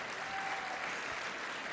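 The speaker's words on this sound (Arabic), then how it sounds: "طب سقفوا لنفسكم بقى." A live audience at a festival event applauds warmly, a dense, even wash of clapping that is close and steady throughout and has no talk over it.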